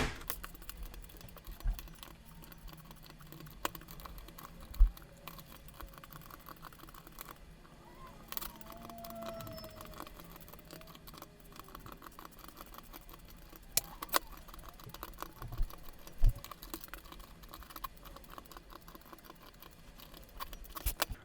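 Keys clacking on a Xiaomi Yuemi MK01 mechanical keyboard during disassembly, scattered individual presses and sharp clicks at irregular intervals, close and fairly quiet, with no voice over them.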